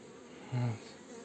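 A honey bee near a beehive with empty frames gives one brief, close buzz of about a quarter second over a low, steady background.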